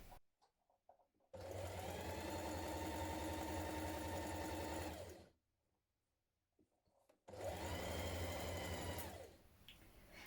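A sewing machine stitches a seam on culottes in two long continuous runs, a steady fast mechanical whirr with a pause of near silence between bursts, close and alone.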